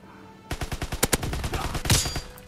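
Rapid bursts of automatic gunfire crackle loudly and close in the Call of Duty WW2 video game, a dense volley of shots that starts abruptly and runs for about two seconds.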